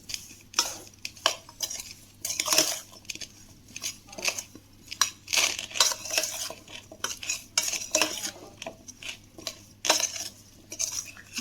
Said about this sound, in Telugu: ఇప్పుడు దీన్ని మంచిగా మిక్స్ చేసుకోవాలి.